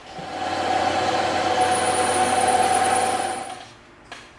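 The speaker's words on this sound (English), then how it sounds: "we're gonna go over to the bandsaw and we're gonna cut these two dowels in half" A bandsaw in a workshop cutting two wooden dowels in half lengthwise: a steady, close mechanical whine holding for about three and a half seconds, then winding down, followed by a brief knock.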